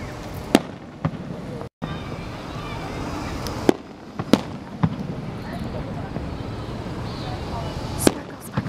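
Fireworks burst at a public display in several sharp, loud cracks and pops spread across the clip, over a steady wash of crowd noise and background talk.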